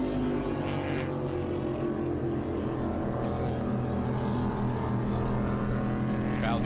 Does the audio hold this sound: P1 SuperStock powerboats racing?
yes